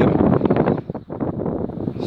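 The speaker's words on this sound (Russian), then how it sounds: "Ветер" Strong wind buffets the microphone at an apiary in Rostov oblast, a loud, continuous low rumble with one brief dip midway.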